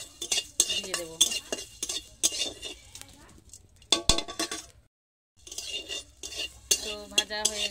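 Three dry spices including cumin stirred and toasted in a hot pan, with repeated scraping and clinking of a utensil against the metal in uneven bursts, a brief pause near the end, then more stirring.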